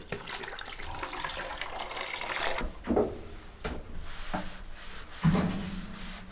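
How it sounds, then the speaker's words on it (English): A cloth rag scrubbing water and mould off the ceiling of a shipping container home, with rough rubbing strokes and a couple of louder swipes and bumps, close up and with no talk. "It's just going to take a little scrubbing."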